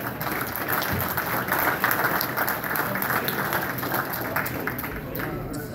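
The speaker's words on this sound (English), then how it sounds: "If we could give a round of applause for him too." Steady, full round of audience applause at a scholarship presentation, dense and continuous for several seconds at moderate volume.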